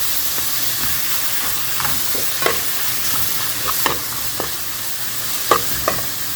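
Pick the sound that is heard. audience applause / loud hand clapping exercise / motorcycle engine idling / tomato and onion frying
tomato and onion frying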